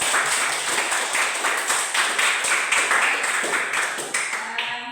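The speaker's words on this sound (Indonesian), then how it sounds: "Kita beri aplaus dulu untuk Putra" A classroom of pupils applauds a classmate named Putra, a steady burst of brisk, close clapping lasting several seconds before tapering off at the end.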